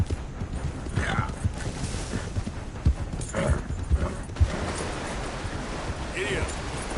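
Horse hooves clip-clopping steadily in Red Dead Redemption 2, a close, rhythmic trot of repeated hoof strikes with a few louder thuds, while a rider's voice calls out intermittently over it.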